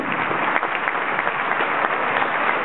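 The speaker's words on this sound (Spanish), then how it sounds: "Muy fuerte el aplauso para todos ellos, señoras y señores" Sustained applause from a theater audience at an evening show of payadores at the Teatro Municipal in Dolores, steady and dense clapping throughout without voices.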